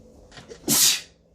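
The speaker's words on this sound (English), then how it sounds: "I have sneezed. Pardon me. It's allergies." One loud, close sneeze with a short inhale just before it and a bright, hissing burst that fades quickly.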